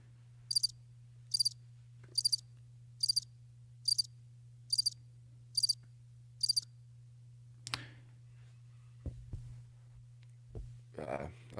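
A cricket chirping sound effect plays in place of applause, eight evenly spaced bright chirp bursts over a low steady hum, followed by someone talking.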